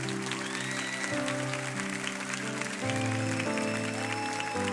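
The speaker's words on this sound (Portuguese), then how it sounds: "Uma salva de palmas para os líderes." A church congregation applauds its cell leaders, steady clapping filling the room alongside sustained music chords underneath, loud and continuous throughout.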